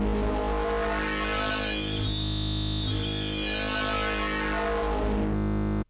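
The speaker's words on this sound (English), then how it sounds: "So now we can hear that the wavetable sounds like this inside of Xeron." Custom wavetable synth patch built from a converted sample and played in Serum: one loud, dense, buzzing sustained tone with a sweeping, shifting timbre that holds steady for several seconds before cutting off, no talking.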